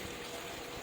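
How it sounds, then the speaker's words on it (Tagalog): About 500 ml of water pours into simmering chicken afritada with yellowish sauce, a short steady gushing and bubbling liquid sound, close and moderately loud. "nilagay ko po diyan halos nasa 500 ml na po ng tubig"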